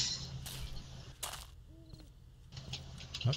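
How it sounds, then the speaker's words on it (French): Night in the game 7 Days To Die: a short, soft owl hoot sounds at mid-distance between rustling and shuffling noises, with no talking. "J'ai entendu un hibou."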